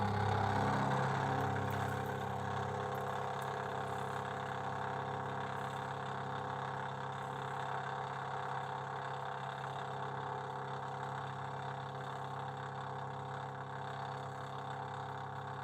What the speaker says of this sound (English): when I push go, it's going to move over, turn my spindle on, set my depth